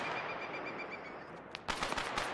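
Heavy gunfire in a military video game: a short burst of sharp, rattling shots breaks in near the end over a quiet background with faint bird-like chirps.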